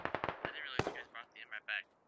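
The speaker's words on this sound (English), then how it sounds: "Lord Shanka throwing a GL about 30 meters short" A grenade launcher fires in a military video game, heard as a cluster of sharp, close blasts in quick succession followed by a larger bang, then fainter intermittent pops and tones.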